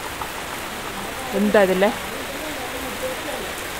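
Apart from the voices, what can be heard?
heavy rain falling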